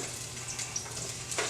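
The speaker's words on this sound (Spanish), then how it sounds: "Vamos a empezar por sofreír." Seasoning for a Michoacán-style fish broth sizzles in very hot oil, a steady frying hiss with occasional sharper pops and stirring scrapes close by.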